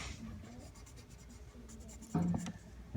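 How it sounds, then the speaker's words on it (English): A colored pencil pressed hard while coloring a dragon drawing, giving a close, soft scratchy scraping that runs continuously and turns louder and grittier near the end. "I'm going to press kind of hard with the colored pencil"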